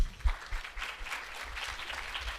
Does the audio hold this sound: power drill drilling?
no